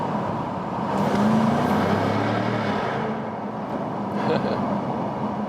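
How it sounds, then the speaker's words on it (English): A 2020 Jaguar F-Type V8 Cabriolet P450 R-Dynamic downshifts with the window open, its engine note swelling briefly to a throaty rise over road and wind noise, moderately loud. "So I'll drop the speed a little bit, drop the window, shift down."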